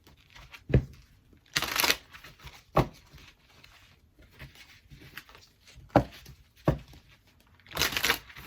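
Tarot cards are shuffled in several quick, crisp bursts of riffling and flicking, separated by short quiet pauses, with no talking.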